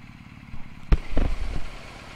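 A BMW R1250GS motorcycle engine runs briefly while the bike is parked, with a sharp clunk followed by a few low, close engine pulses and clatter over about two seconds.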